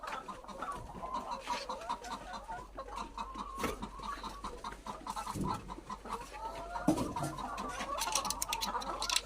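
Chickens on a poultry farm cluck and chatter steadily throughout, a dense flock of overlapping calls with a few louder nearby squawks over constant barn hum.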